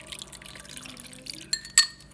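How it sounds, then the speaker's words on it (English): Water poured into a strainer holding red chili pieces in a kitchen, with soft trickling and splashing, a faint background hum, and sharper clinking clatters near the end. "I'm gonna just pour a little bit of water in here,"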